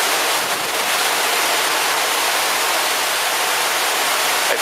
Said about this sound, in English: Waves are still picking up pretty good here.